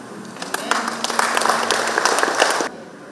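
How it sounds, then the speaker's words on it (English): Audience applause for the Vice President at a gathering about marriage and Christian values. Brisk, dense clapping builds and holds for a couple of seconds before stopping abruptly, leaving near silence. "Why don't you again clap for the Vice President?"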